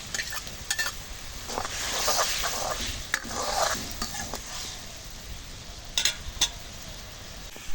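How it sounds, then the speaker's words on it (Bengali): Spices and dried fish fry in oil with a close, continuous sizzle, while a utensil stirs and scrapes against the pan in repeated sharp strokes. "শুটকি দিয়ে তেলের মধ্যে কষালি করি"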